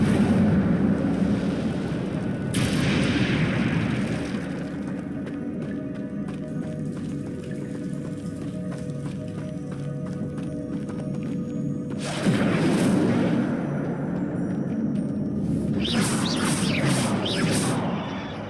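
The Incendio fire spell cast in Hogwarts Legacy: whooshing, booming bursts of flame over a constant rumbling game soundscape, with a fiery flare near the start and more crackling bursts toward the end.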